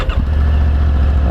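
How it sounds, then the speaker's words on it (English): A 2022 Triumph Tiger 900 Rally Pro motorcycle engine catches and settles into a loud, steady, close idle with a deep rumbling tone. "like all Triumphs, you have to have the clutch engaged in order to start the bike"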